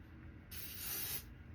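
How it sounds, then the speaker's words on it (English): A close, steady spray of hairspray from an aerosol can, a single continuous hiss lasting under a second in an otherwise quiet room. "I do want to like put some hairspray on this"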